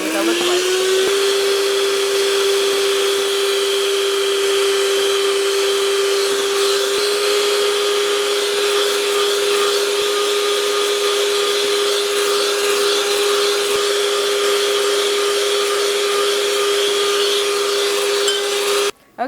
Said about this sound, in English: I'm going to keep whisking while I add sugar a little bit at a time until I get stiff peaks